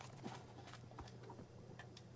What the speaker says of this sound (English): There's a horse right there.